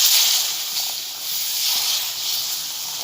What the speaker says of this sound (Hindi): हम गैस धीमी आंच पर ही रखेंगे और इसमें पानी आहिस्ता आहिस्ता डालेंगे